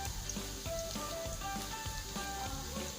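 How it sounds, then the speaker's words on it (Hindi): Garlic, cumin and whole red chillies frying in ghee for Pakistani tarka daal, a close, steady crackling sizzle with scattered pops, continuing without talk. "अब तमाम चीज़ों को फ्राई करूँगी।"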